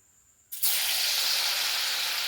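Bitter gourd and soybean pakora dropped into hot oil over medium heat, a steady loud sizzle that starts abruptly and holds without a break.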